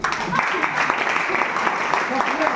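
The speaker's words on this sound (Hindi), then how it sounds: "इसके लिए आधी ताली बजाओ।" A crowd at a leadership program event in Prayagraj gives a short, steady round of clapping, loud and continuous, with a voice speaking faintly underneath.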